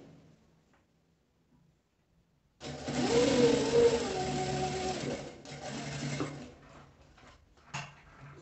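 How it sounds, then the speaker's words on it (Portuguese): A sewing machine stitches a seam on fabric for a travel placemat, a loud, even motor whir starting after a quiet pause and running several seconds before slowing and stopping. "e vou passar outra costura do outro lado também"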